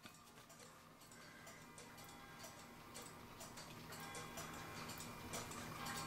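A West German Schmeckenbecher musical chime clock's mechanism ticks quietly and steadily in a fast, even rhythm, faint and close, with a light mechanical whir running underneath.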